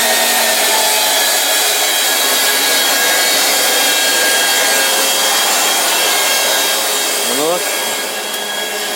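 Gas generator blower fan on a VAZ 1.5L setup running steadily and loudly up close, a constant broadband whoosh throughout, with a brief rising whistle-like sweep near the end.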